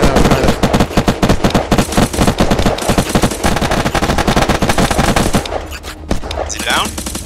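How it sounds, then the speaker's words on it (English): Maxim minigun fire in the video game Unturned, loud rapid bursts of automatic shots for several seconds, then a sparser tail with voices talking over the gunfire. "That's a Maxim. Please take out that f***ing minigun, whatever the f*** that is."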